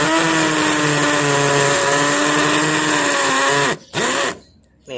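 A power drill bores into a concrete wall while fixing wall plugs, a loud steady whine with a rough grinding edge that holds for several seconds, then stops briefly and restarts before cutting off.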